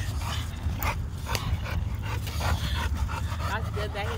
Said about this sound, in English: That's good that he's not scared of the big dog.